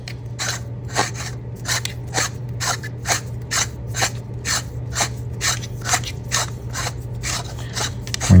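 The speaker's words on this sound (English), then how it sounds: "you can put the handle on" A handle being screwed onto a Neopixel lightsaber hilt with Proffie electronics: a steady series of close, rhythmic rasping twists at about two per second, each a short scratchy grind of threads, over a low constant hum.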